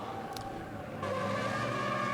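A European Truck Racing Championship race truck spins donuts at turn 1 of the Nürburgring, its tyres squealing and skidding. The noise surges sharply halfway through and holds loud and sustained.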